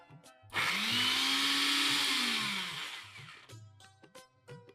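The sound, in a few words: mixer grinder grinding cashews with water into paste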